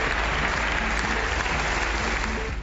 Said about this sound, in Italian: dopo l'applauso a Conte